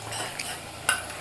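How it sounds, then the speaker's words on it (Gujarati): Pizza gravy with onion, garlic, chilli, salt, turmeric and pepper being stirred in a pan, a steady soft scraping and sizzle with a sharper utensil clink near the end, close by with no talk. "તો હવે આપણે ગ્રેવીને હલાવીશું, એક રસ કરીશું તો મસાલા એને એમ કે ભળી જાય."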